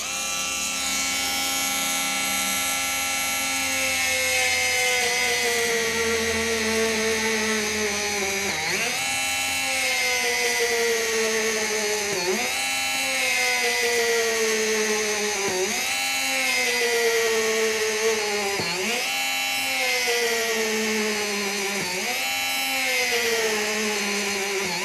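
Mollar CMG12125A cordless mini die grinder with a 3 mm bit cutting thick solid Dutch teak: a loud, steady high-pitched whine that sags in pitch each time the bit bites into the wood, repeating every few seconds, with no talking.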